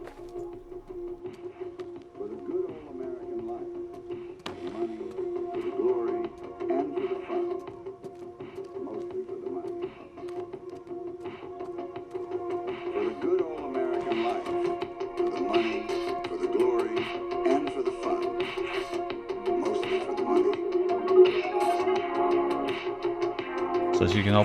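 Music playing in a reverberant room, steady and continuous, with its tone growing gradually more muffled and filtered as obstruction shifts over time, with no clear speech.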